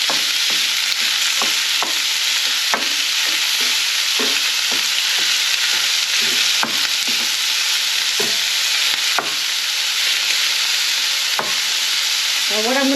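Meat searing in a hot pan for shakshuka, a loud, continuous sizzle and crackle throughout with frequent sharp pops and occasional scrapes from stirring, no voices.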